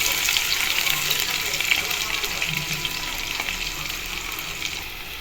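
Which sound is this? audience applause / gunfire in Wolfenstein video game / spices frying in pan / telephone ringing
spices frying in pan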